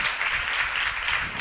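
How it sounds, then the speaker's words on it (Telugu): A congregation claps together in praise of God during a church sermon, a brief, dense burst of many hands applauding steadily. "ఒకసారి చప్పట్లు కొట్టి దేవుని స్తుతించు"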